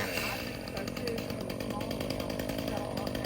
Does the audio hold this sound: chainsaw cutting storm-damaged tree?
yes